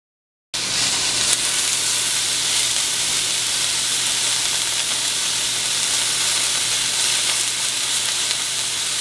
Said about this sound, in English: Make sure the pan is on high and really, really hot before you put the steak in there.